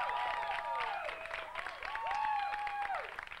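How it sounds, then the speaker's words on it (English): Live music show audience applauding a duo as they come on stage, a sustained bed of clapping and crowd noise with bright cheering whistles and whoops riding over it throughout. "Round of applause."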